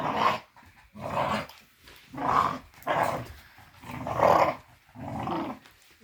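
Bully-breed game dogs growl in repeated deep rumbling bursts, roughly one per second, close and fairly loud with short pauses between.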